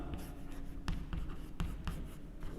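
Chalk or marker writing English alphabet letters on a board during a maths lesson, with a run of soft scratchy strokes and several sharper taps, faint and close, and no talking.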